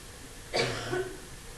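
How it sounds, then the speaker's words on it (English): A single short cough, close and fairly loud, trailing off into a brief throaty rasp against a quiet room. "No more coughing in class."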